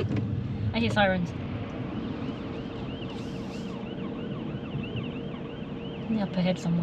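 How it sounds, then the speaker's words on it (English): An emergency vehicle siren wails in a repeated rising and falling pattern while driving on a road toward Uxbridge, moderately distant under steady car interior noise, with voices talking briefly at the start and end. "Sirens."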